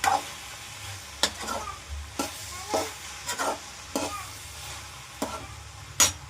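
A spatula stirs homemade fried rice in a hot frying pan, making repeated scraping strokes about once or twice a second over a soft, continuous sizzle up close.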